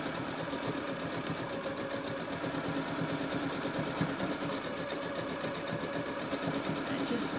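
A sewing machine stitching coiled rope into a bowl runs continuously with a steady, even mechanical hum and rapid needle chatter at close range, no talking.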